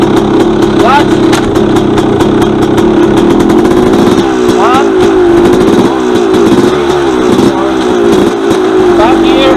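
Engine of a used dirt bike being run through the gears: a loud, close, rough engine drone with several rising and falling revs as it shifts, and someone talking over it.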